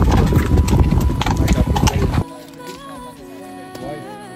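A horse gallops on a beach, its hooves drumming in a loud, fast, close rhythm for about two seconds before the pounding stops abruptly and quieter tones and a voice follow.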